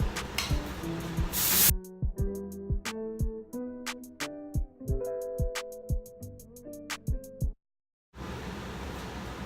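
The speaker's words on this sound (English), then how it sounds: "Top it off with some more dry shampoo." Dry shampoo sprays onto hair in a loud hissing burst at the start, with another hiss at the very end, while plucked, tonal music plays in between.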